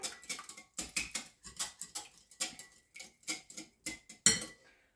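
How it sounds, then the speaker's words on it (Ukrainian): A fork or whisk beats an egg against a bowl in quick, rhythmic clicking bursts, close and light, with brief pauses between strokes. "так трішки збиваю його"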